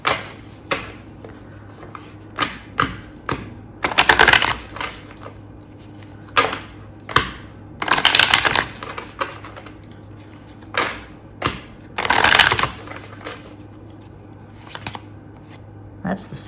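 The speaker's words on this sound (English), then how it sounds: "Do a good hard shuffle." A deck of tarot cards being shuffled hard, in several loud riffling bursts separated by lighter card taps and handling clicks, close up with no talking.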